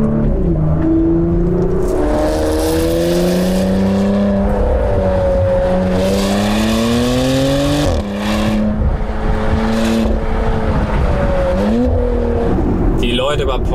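Porsche Macan Turbo SUV engine pulling hard out of a hairpin bend, loud continuous drone rising and falling through gear changes, with a voice talking over it throughout.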